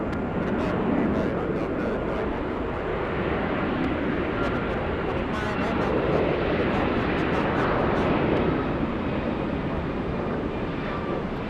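Alaska Airlines airliner departing Atlanta's Hartsfield-Jackson airport, a distant continuous jet roar that swells and fades slightly, with faint wind noise over the top.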